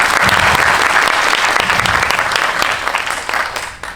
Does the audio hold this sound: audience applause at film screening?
yes